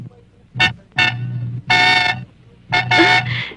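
A car horn honks in four separate blasts, loud and close, the last one doubled into a quick pair.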